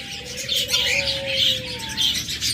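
A pair of grey cockatiels chirps close by, with bright repeated calls over a thin whistled tone and a busy background of other birds.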